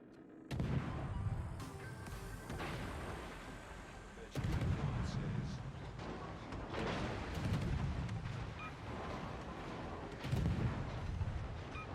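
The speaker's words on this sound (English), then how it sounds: "Turpit's secondaries are all over me." Secondary guns fire at a destroyer in World of Warships, a Tier VII European destroyer HSwMS Skåne under attack: dense, continuous booming gunfire with heavier blasts recurring every few seconds, loud and close throughout.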